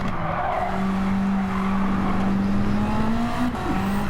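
A race car in Gran Turismo 7 with an overheating engine: a sustained, loud engine drone holds through a long tire skid and squeal, with a brief dip near the end before the engine tone resumes.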